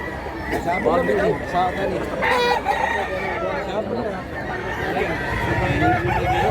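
A rooster crows at a market in Mantalungon, Cebu, with its call rising over lively crowd chatter and nearby talking voices.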